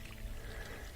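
Water draining by gravity from a hot water heater tank during a yearly flush, a faint, steady pouring trickle with no voices.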